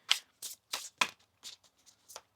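A deck of tarot cards is shuffled in a quick series of about six crisp riffling bursts, close and fairly loud, with short pauses between them and no talking.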